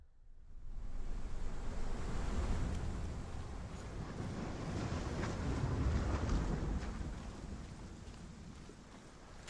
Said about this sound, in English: The sound of these waves in the surround sound, I like it.